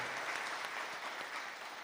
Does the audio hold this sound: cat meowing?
no